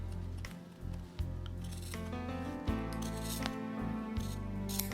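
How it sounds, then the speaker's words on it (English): Shears cut through fabric fringe in a series of close, crisp snips and slicing crunches, with irregular pauses and some rustling of the cloth between cuts. "I'm gonna take my shears and I'm gonna cut it."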